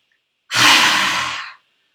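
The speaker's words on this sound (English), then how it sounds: "this rasping sound in the throat that goes with it" A single long, rasping breath forced through a constricted throat during a yoga breathing exercise, loud and close, lasting about a second with no talking.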